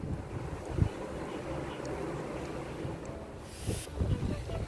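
Steady wind blows across the open deck of a cruise ship at sunset, a constant rumbling roar with low buffeting gusts near the start and again toward the end, with no voices.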